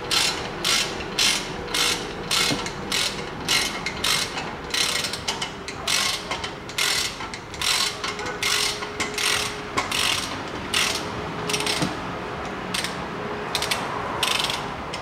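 A ratchet wrench clicks in quick, even bursts as it tightens a front brake caliper bolt on a Land Rover Discovery 4 during a brake pad change, close and clear with no talking.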